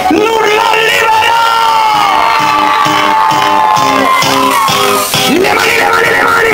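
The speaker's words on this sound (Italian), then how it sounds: "E siamo pronti perché voglio sentire l'urlo libero!" A dance-party crowd at a DJ set roars with continuous shouting and cheering, loud and close, layered over steady pulsing music for the whole stretch.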